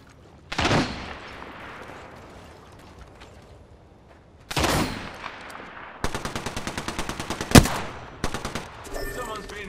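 Weapon fire in the Apex Legends video game: two isolated heavy shots, then a rapid automatic burst with a loud crack near the end, close and punchy over a low background rumble.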